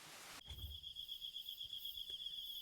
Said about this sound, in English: The river was quieter with the sounds of crickets and bugs in the grass